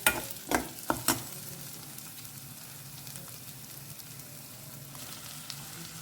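Cassia tora leaves (takla bhaji) are tossed into a frying pan, a few sharp clatters of the spoon at the start, then a soft steady sizzle with faint stirring scrapes, close and quiet, no talking.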